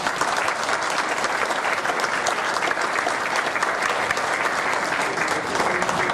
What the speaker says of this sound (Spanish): para los cuales pido un fuerte aplauso.